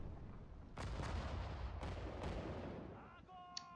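Soldiers fire in the WWII Stalingrad battle of the strategy game Sudden Strike 4, a dense roar of rifle and artillery shots with several sharp cracks standing out. The shooting fades toward the end, leaving a faint tone.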